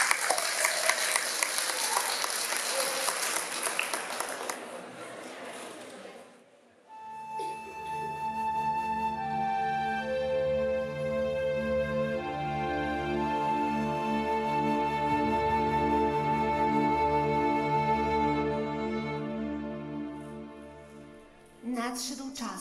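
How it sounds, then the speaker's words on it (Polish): A festival audience at the Tsuru Japan Festival 2019 in Poland applauds a Shaman King cosplay performer: dense, loud crowd clapping for about six seconds, then it gives way to sustained music. "Brawa dla niej!"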